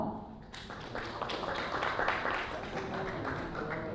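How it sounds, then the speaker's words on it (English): Audience at an album release party claps for a favorite track, a short burst of scattered hand claps from a small crowd that starts abruptly and carries on steadily at moderate volume, with faint voices beneath. "Clap for your favorite track."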